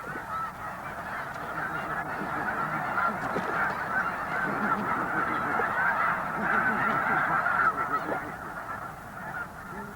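A vast flock of snow geese honks without pause, a dense, steady wall of overlapping calls that swells slightly and then eases near the end.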